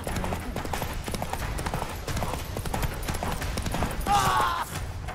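The horse Roach gallops in the video game The Witcher 3, a quick rhythmic clip-clop of hooves running continuously, mixed with other game sounds.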